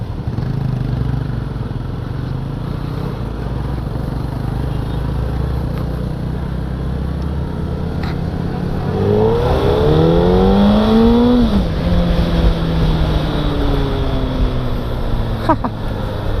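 A Suzuki Hayabusa motorcycle engine drones steadily, then revs hard and climbs in pitch as it speeds up, heard loud and near over constant wind noise.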